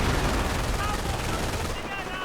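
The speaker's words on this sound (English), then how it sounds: "MG42 opening up on the riflemen" MG42 machine gun bursts in a war video game rattle densely and continuously, loud and harsh, with no break between rounds before tailing off slightly at the end.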